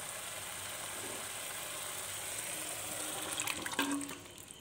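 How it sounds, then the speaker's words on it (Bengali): Water-soaked paneer is poured with its soaking water into spiced masala in a pan, making a continuous close splashing rush that swells into a fuller splash near the end. "এখন আমি এর মধ্যে দিয়ে দেব জলে ভেজানো পনিরটা,"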